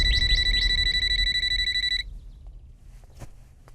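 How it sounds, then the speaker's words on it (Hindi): A telephone bell rings in loud repeated trilling bursts for about two seconds and then cuts off abruptly, leaving quiet room sound with a few faint knocks. "अरे फोन इतनी देर से बज रहा है, उठाते क्यों नहीं?"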